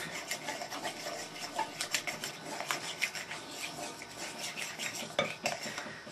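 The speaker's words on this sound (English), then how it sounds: "And stir that around with a knife." A knife scrapes and clinks against a bowl while stirring flour and finger-warm water into paratha dough, a steady close run of irregular metallic taps and rubbing with no voices.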